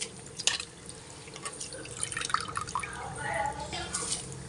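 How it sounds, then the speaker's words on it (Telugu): Soaked rice tipped into a pot of boiling water for chicken fry bagara rice, a close, steady bubbling and pattering of liquid with splashes, under a voice talking over it. "ఇప్పుడు నేను నానబెట్టుకున్న బియ్యాన్ని ఇందులో వేసేస్తున్నాను."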